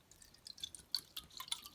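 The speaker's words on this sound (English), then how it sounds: "pour water into a bowl" Water from a bottle is poured into a bowl at home, giving a quiet, uneven run of close splashes and drips.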